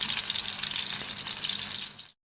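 Kebabs frying in oil over a medium flame give off a loud, steady bright sizzle and crackle that runs unbroken for about two seconds, then cuts off abruptly.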